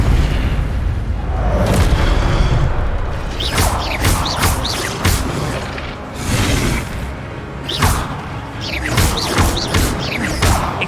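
Repeated Expelliarmus and Incendio spell casts in Hogwarts Legacy burst out as loud booming, crackling impacts with whooshing tails, arriving in several clustered bursts over a steady background of game effects.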